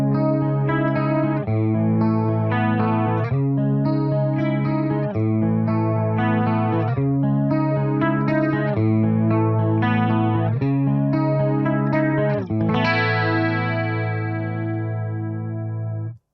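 Electric guitar run through a Behringer Chorus Symphony analog chorus pedal, playing a steady chord progression with a shimmering, swirling chorus tone, loud and sustained, ending on a long ringing chord that fades out.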